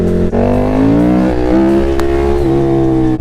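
A powerful vehicle that behaves like a huge dirt bike revs its engine hard, loud and close, with the pitch climbing and shifting through steady roaring tones across the whole stretch.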